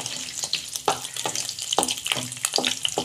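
Cashews, about ten or twelve of them, frying with spices in a pan, giving a steady sizzle broken by repeated sharp scraping stirs at close range, with no talking.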